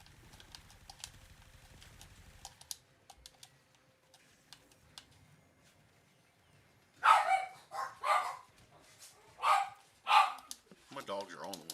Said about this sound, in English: My dogs are on one today, dude. They're barking at everything.